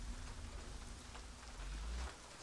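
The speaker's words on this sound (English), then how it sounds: "it's only the rain on this shack" Steady rain patters on a shack roof in the video game Days Gone, a dense soft hiss with a low rumble underneath, no voices.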